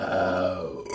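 A single deliberate burp, a low, drawn-out guttural belch lasting about a second, close and fairly quiet, with no talk over it.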